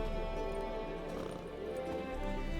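A horse in The Witcher 3: Wild Hunt clip-clops along with a steady gait under dense game music and ambience, hoofbeats fairly close but partly masked.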